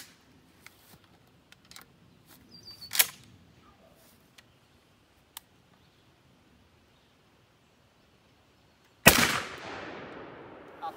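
A Mossberg 835 shotgun fires a 3.5-inch buckshot load at an outdoor range, aimed at a 50-yard target: a single loud, sharp blast near the end with a lingering decaying tail, preceded by a few quiet clicks and handling sounds.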